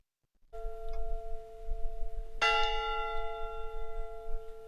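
A church bell at Rock Castle rings with sustained, droning tones, then a fresh strike near the middle sets off a bright ringing burst that slowly fades, with no voices.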